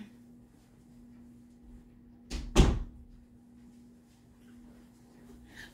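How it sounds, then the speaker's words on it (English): A door is pushed shut with a single solid thump about midway, preceded by a brief softer contact, over a quiet indoor room with a steady low hum. "I'm gonna close the door."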